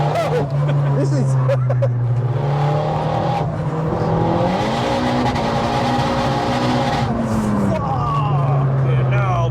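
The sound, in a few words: turbocharged Vauxhall Corsa engine running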